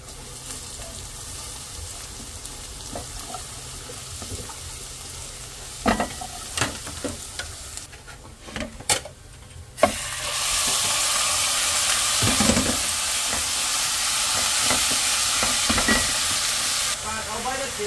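Beef tapa frying in cooking oil. Quiet stirring and scattered clicks come first, then a loud, steady, bright sizzle takes over for the rest of the clip.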